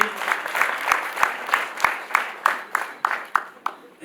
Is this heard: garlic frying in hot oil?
no